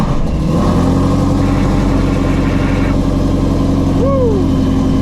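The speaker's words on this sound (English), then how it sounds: "we're gonna go ahead and fire up the car" A Shelby GT350 Mustang with a ProCharger supercharger starts up on a rainy day: a sharp catch as it cranks, then a loud steady idle with a rising supercharger whine and a brief blip near the end.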